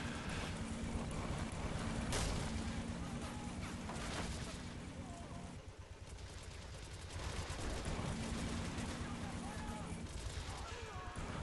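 Multiple guns mounted on a vehicle in the Men of War video game fire in dense, rapid bursts, a crackling rattle of machine-gun fire over engine rumble that dips briefly midway and then resumes.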